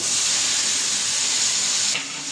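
Ginger, garlic and tomato sizzle in hot oil with already fried potatoes, a loud, steady hiss that thins out abruptly near the end.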